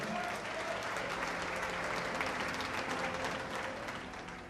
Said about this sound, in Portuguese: Toma o seu assento aplaudindo a Jesus porque Ele é bom.